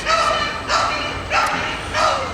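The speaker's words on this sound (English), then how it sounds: "The dogs are getting a little restless" Several dogs bark in four loud, evenly spaced bursts of yapping, close by and with no talk over them.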